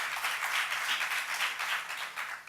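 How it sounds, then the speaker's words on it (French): An audience applauds FIF president Sidi Diallo at a reception held by the First Lady, with dense steady clapping from many hands throughout, moderately loud. "Et je vous demande de l'applaudir."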